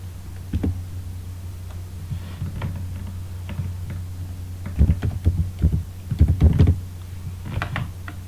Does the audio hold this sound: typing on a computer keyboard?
yes